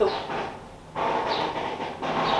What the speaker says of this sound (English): This is when I hate living near trains.